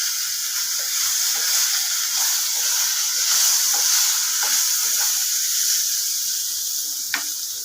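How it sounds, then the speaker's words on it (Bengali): Eggplant sizzles steadily in hot oil, a dense, even frying hiss with faint crackles and a sharper pop near the end, with no voices. "এবার আমি তেলে বেগুনটা দিয়ে দিলাম। বেগুনটা ভাজা ভাজা করে নিই।"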